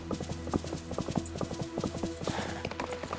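Horse hooves clip-clopping at a steady walking rhythm in a ranch video game, a brisk run of close, crisp hoof knocks with no talk over them.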